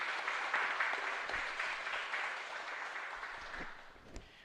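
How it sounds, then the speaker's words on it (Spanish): Congregation in a chapel claps after a Mass prayer, a broad burst of applause that gradually fades over several seconds, with a few louder claps near the end and no speech. "Y un fuerte aplauso para nuestra comunidad."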